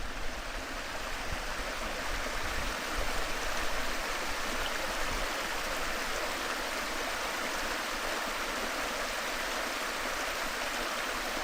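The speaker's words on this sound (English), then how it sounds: "It's just a pretty little waterfall." Small waterfall on a farm, a steady broadband rush of falling water that stays even and close throughout with no voices.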